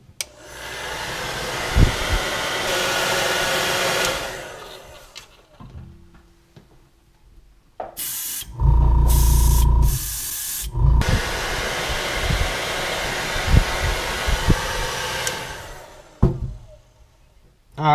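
An airbrush gun set to about 25 PSI sprays paint onto a crawfish crankbait lure, giving a loud steady hiss in two long bursts separated by a quieter gap, with brief clicks and knocks in between.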